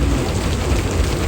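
Steady rain pours down outdoors at a temple candle-festival display, a dense continuous wash of patter with a low rumbling undertone and no voices.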